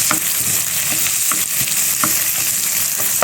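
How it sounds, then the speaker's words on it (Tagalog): Garlic sautés in oil in a pan for a stir-fry with tofu and water spinach, giving a steady loud sizzle broken by regular scraping stirs of a utensil, with no talking. "Nagigisa na ako."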